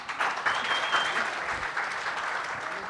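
A crowd at a song launch applauding makeup director Vidyadhar Bhatte, a dense, sustained burst of clapping from nearby that holds steady for a few seconds, with a voice briefly audible beneath it.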